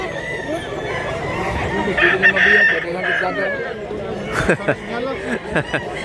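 Roosters crow and chickens cluck in a crowded yard in Mantalungon, Cebu, with voices talking over the steady poultry noise and a few sharp knocks.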